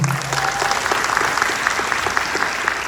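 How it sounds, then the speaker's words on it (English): A room full of people gives a round of applause at a talk with a San Diego FC coach, a loud, even burst of many hands clapping that continues without a break. "Let's give Danny a round of applause."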